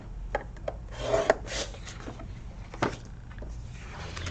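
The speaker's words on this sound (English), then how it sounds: "So the 4 by 12 inch piece, we are going to score at 5 1/2 and at 11." A tool scores a 4 by 12 inch piece of craft paper for a thanks-bag project, making soft scraping rubs with a couple of sharper ticks. Close and fairly quiet over a low steady hum, with no voices.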